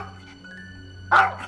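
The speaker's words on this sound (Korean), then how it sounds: "대문을 두드리는 소리에 갑자기 짖기 시작하는 녀석" A Maltese dog behind a green front gate lets out a sudden short bark, then a quieter yip, after a stretch of near silence, close and alone with no voices.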